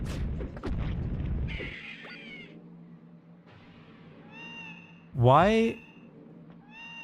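Cartoonish cat meows triggered by touching walls in the video game Baroque, a loud, wavering yowl alongside game rumbles and thuds, with a brief voice in between.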